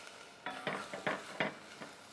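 Chopped leek hits lemon-infused olive oil in a pan with a few quiet, separate bursts of sizzling and stirring scrapes, close but faint, with no talking.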